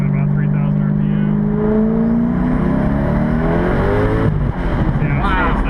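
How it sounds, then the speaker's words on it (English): A 2010 Corvette Grand Sport twin turbo revs under high boost, its engine tone climbing and then falling away as the throttle lifts, followed by a short blow-off valve burst, loud and close, with someone talking over it. "you hear that crack when I let off the throttle? That's the blow off valve."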